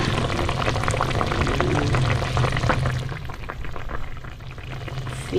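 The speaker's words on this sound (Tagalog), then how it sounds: "Kumukulo na siya." A pot of fish boiling on the stove, with a steady, close bubbling and rumbling that eases slightly in loudness partway through and carries no talking.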